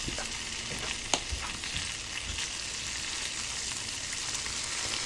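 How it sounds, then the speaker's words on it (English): Bacon sizzling on a griddle for French toast, a steady crackling fry with scattered pops and one sharper snap, moderately close and continuous without speech. "That is the sound of bacon."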